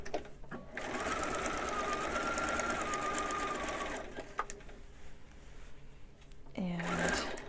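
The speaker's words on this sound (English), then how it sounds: "I'm going to start sewing. I'm even going to backstitch that." A sewing machine stitching fabric for a monk robe runs in a steady rapid buzz for about three seconds, pauses, then sews again briefly in reverse for a backstitch, with faint clicks between runs.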